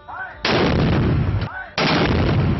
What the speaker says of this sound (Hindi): इस मौके पर तोपों की गनगरज ने फिजाएं लरजाई